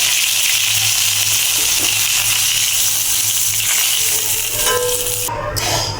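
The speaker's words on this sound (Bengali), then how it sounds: "হচ্ছে আমার মাছ ভাজা" Oil sizzles loudly and continuously in a hot pan as rohu fish fries, with a brief clink near the end.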